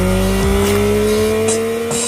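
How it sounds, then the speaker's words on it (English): The CP3 three-cylinder engine of a new Yamaha MT-09 motorcycle roaring, a loud, steady note with rising and falling revs, close and continuous. "to let the new CP3 engine roar"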